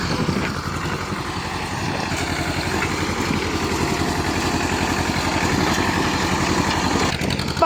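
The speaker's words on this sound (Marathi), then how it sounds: "ट्रॅक्टर चालला आहे भावानं पुढं." A farm tractor engine runs steadily while ploughing a field, a continuous low chugging drone close by that holds even throughout.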